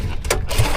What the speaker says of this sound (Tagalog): Ayusin natin itong makina natin kay palya-palya